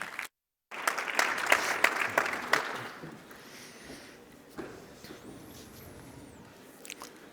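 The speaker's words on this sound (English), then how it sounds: "Please give them a big round of applause." A courtroom-style audience at a moot court and judiciary dialogue event applauds, a scattered burst of clapping that swells over a few seconds, then thins into faint isolated claps and quiet room noise.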